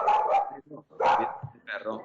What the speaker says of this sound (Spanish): Cuidado con el perro, por favor, cuidado con el perro.